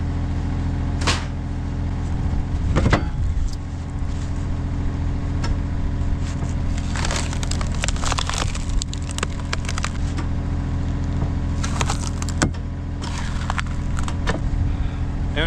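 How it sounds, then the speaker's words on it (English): Poplar firewood being split by a machine, with repeated sharp cracks and splintering snaps of fibrous wood over a constant low motor hum, loud and close. "Poplar sucks as firewood. Doesn't split perfectly, it's just a bunch of fibers."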